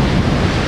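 Strong wind buffeting the microphone over rough, storm-swollen sea surf on a beach in Rio Grande do Sul, a loud dense roar held steadily through a very short moment, with no talk.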